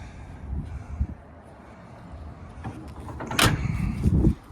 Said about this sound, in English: that door closes good too